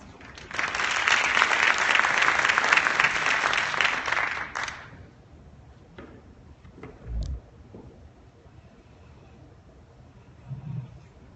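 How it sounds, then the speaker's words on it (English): An audience applauds a presenter at a conference, a dense burst of clapping that swells and fades out within about five seconds, followed by a quiet room with a few faint thumps and shuffles. "Please give her a warm round of applause."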